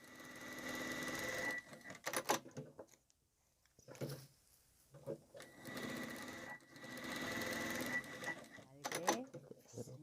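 A sewing machine stitches a small piece of lace onto unbleached cotton muslin for a tissue box cover, running in fast whirring bursts broken by pauses while someone talks.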